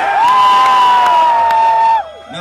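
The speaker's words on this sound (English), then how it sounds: "Don't scream in between the beats" A concert crowd at a live show in the Locomotiv Club in Bologna, 2012, letting out a loud, sustained, shrill scream. It holds at one pitch for about two seconds, then drops off abruptly.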